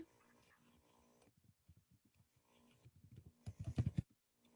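Soft, irregular tapping of computer keyboard keys in a quiet room, growing into a brief burst of louder, faster clicks near the end.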